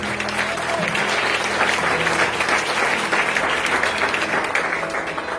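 A congregation at an evening Spanish-language church service claps together in praise, a full, dense burst of applause that fills the room for several seconds before it begins to thin.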